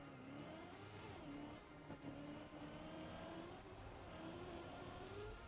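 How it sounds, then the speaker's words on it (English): A race car in a racing video game accelerates with a steady rising engine drone, held at a constant moderate level across the whole stretch with no talk over it. "Car accelerate."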